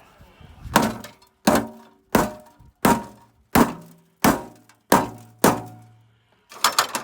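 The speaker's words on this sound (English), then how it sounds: "when all else fails, you know, the Ian Matthews, just get a hammer" A hammer strikes metal in a steady series of about nine sharp, ringing blows, each clang decaying quickly before the next.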